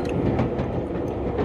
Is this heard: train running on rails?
yes